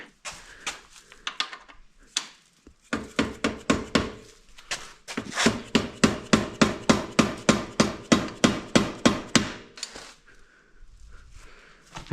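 A 3-pound sledgehammer drives a seized bolt out of a 1992 Suzuki LT250R quad, heard as a fast, steady run of loud, close metallic hits, about two per second, after a few looser taps.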